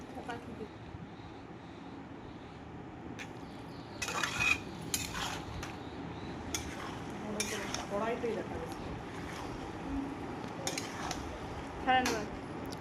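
Chicken being stir-fried with ground cumin and black pepper in a pan for beresta chicken, with a spoon clinking and scraping against the metal over a low sizzle, while a voice talks at times.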